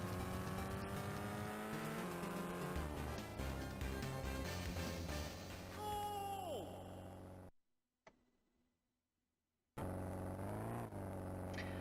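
Racing car engine in GT Cube, a Game Boy Advance video game: a loud, steady synthesized engine drone with rising and falling pitch as it revs, a brief tire squeal, then a short cut to near silence before the engine resumes.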